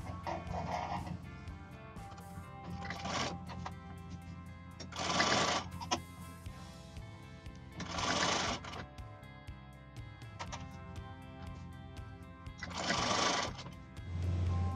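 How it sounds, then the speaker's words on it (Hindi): A sewing machine stitches a fabric strip onto a designer choli. It runs in short rhythmic bursts of rapid needle clatter separated by pauses, close and steady, with no speech. "राइट साइड में इस स्ट्रिप की साइड में स्टिचिंग कर देंगे"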